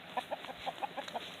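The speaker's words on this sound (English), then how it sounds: "Look at the chicken." A chicken in a goat farm's barnyard gives a quick run of about six soft, evenly spaced clucks, close by and moderately loud, with no talking.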